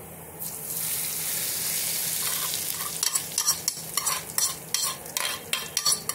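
Hot oil tempering hisses loudly as it is poured onto turmeric pickle, then settles into a crackling, popping sizzle with repeated bursts.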